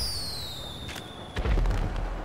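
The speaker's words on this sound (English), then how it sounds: "Fireworks!" Fireworks exploding in the video game GTA Online, a whistling launch descending in pitch followed by crackling pops and a deep booming burst, fairly close.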